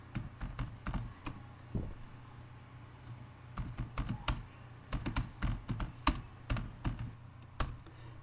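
Close, crisp keystrokes on a computer keyboard as a test message is typed into a C++ program on Linux, irregular bursts of clicks with short pauses, no talk over them.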